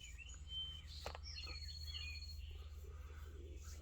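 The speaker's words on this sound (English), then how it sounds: "Birds seem pretty happy today." Birds chirp and tweet outdoors in short bursts over a steady background of insect trilling and low hum; no one speaks.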